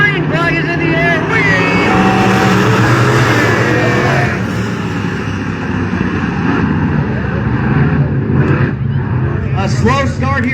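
Dirt track race cars at Battle Mountain Raceway roar together off the green flag in an eight-car main event, a loud sustained multi-engine drone under continuous announcer commentary.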